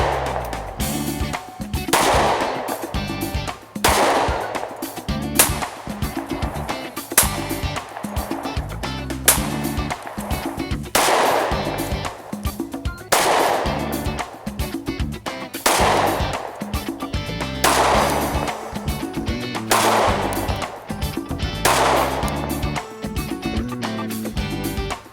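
Repeated pistol gunfire from an XD 45 ACP Compact and a Glock 30 loaded with full metal jacket rounds, loud sharp shots in irregular bursts with echoing tails across the whole stretch.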